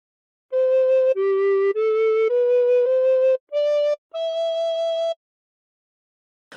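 A recorder plays a slow phrase of God Defend New Zealand, seven clean sustained notes held one after another with short breaks between, close and bright, followed by silence.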